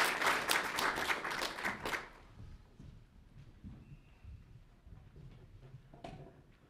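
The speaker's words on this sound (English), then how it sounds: "let's give them a round of applause" An audience claps steadily at a Vermont International Day of the Girl event honouring commission members; a dense burst of many hands lasts about two seconds, then thins to scattered, fading claps and a quiet room.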